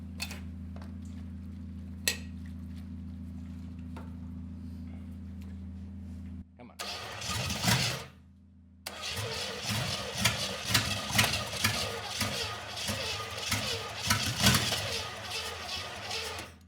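A carbureted Small Block Chevy 350, run after sitting for fifteen years, hums steadily before a burst of starter cranking. After a brief pause comes a longer run of rhythmic, churning cranking that never catches.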